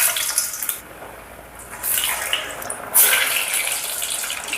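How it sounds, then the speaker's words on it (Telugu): Bottle gourd fritters (sorakaya garelu) frying in medium-hot oil on a stove: a continuous bright sizzle with a couple of brief dips, then a louder surge partway through. "ఆయిల్ వేడైందండి. ఆయిల్ని మీడియంగా వేడి చేసుకోవాలి. స్టవ్ని ఇప్పుడు సిమ్లో పెట్టుకొని గారెలు వేసుకుందాం."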